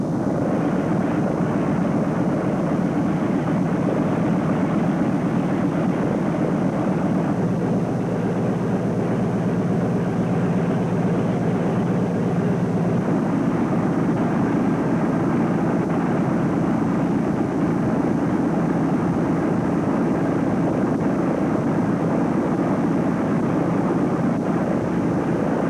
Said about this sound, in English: the B24s now taxi back to the waiting ground crew at their dispersals